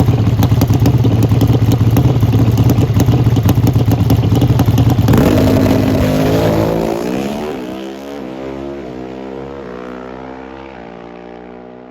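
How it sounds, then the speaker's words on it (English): A Denso V-Twin drag racing motorcycle making a 200 mph NHRA pass, loud harsh engine roar at launch that shifts upward, then fades into a descending whine as the bike pulls away into the distance. "Another 200-mile-an-hour run for Angie Smith"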